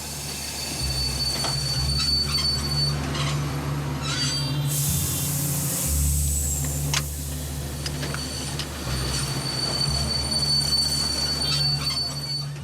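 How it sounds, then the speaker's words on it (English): A train on a rail line in Congo's Katanga region slowing down, its wheels squealing loudly against the rails with sustained metallic screeches and rumbling wagons, close and continuous with no voices. "He can feel that the train is losing speed."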